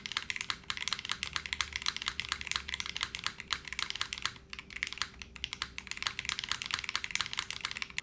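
Rapid, crisp clacking of typing on a 60% mechanical keyboard with a polycarbonate plate, Cherry stabilizers and no foam, steady close keystrokes with no talking.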